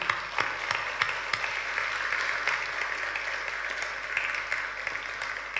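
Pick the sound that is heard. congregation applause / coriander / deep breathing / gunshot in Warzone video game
congregation applause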